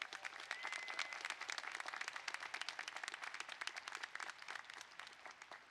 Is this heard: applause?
yes